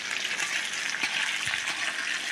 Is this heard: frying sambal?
yes